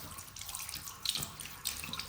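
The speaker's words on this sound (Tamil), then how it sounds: "ஐரா தானா கை கழுவுற அளவுக்கு வளர்ந்துட்டா இல்ல" A running tap splashes into a sink as a young child washes hands, a close, steady gush with brief louder surges and no speech.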